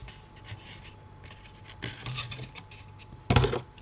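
A glued cardboard lid is pushed and fitted onto a small mini album box, giving soft rubbing and scraping sounds that build, ending with a brief firmer rustle of paper and card, close by.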